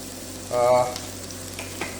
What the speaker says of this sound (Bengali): প্রথমে চুলাটাকে চালু করে নেই, পেঁয়াজ দিয়ে দিলাম।